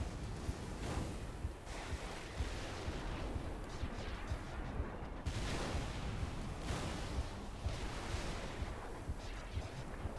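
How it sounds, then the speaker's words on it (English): The Projectilinator in Cursed Halo 3's Floodgate level fires a random mix of in-game projectiles, producing a loud, continuous roar of overlapping blasts and whooshes with repeated sharper bursts throughout, and no voices. "Well, it just shoots a random assortment of all the projectiles in the game."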